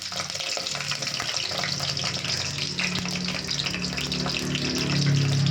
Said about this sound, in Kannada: ಎಣ್ಣೆ ಕಾದಿದೆ. ಮೆಣಸಿನ್ಕಾಯಿ ಹಾಕ್ತೀನಿ.